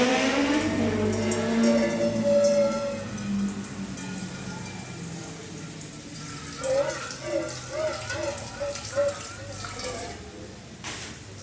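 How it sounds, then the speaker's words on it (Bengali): Water pours into a cooking pot while a Bengali fish curry (macher jhol) cooks, a steady splashing rush that is loudest at first and then tapers, with a voice speaking over the later part. "এবার এখানে জল দিয়ে দিলাম।"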